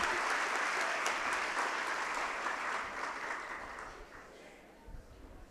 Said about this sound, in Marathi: टाळ्या टाळ्या टाळ्या.